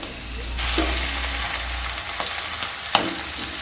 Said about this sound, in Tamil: இப்போ நான் வந்து இந்த ஈரலை வாஷ் பண்ணி வச்சுருக்கிறத சேர்த்துக்கிறேன்